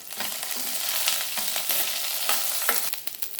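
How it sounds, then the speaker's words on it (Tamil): Garlic, cumin and curry leaves fry in a pan for dosa chutney, giving a continuous close sizzle broken by scraping stirs, with no voices. "பூண்டு சேர்த்துக்கிறேன், சீரகம், கருவேப்பிலை, இதெல்லாம் வந்து நல்லா வறுத்துக்கலாம்."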